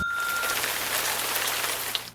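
Rain falls in a dense, steady hiss of drops on a surface, constant and fairly loud for about two seconds with no voices.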